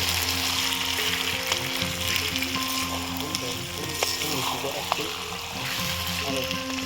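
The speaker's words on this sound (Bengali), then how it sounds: "এবার মাংসটা আস্তে আস্তে কষিয়ে নেব ধিমে আছে" Duck meat frying slowly over low heat in a pan, a steady close sizzle with occasional stirring scrapes, continuing under a person talking.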